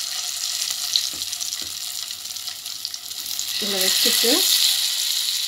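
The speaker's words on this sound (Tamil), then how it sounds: "ஒரு சைடு நல்லா பொறிட்டும் அதுக்கப்புறம் திருப்பி விடலாம்." Sankara fish fries in hot oil in a pan, a soft steady sizzle with a couple of faint knocks, briefly under a short spoken phrase, with the frying growing a little louder toward the end.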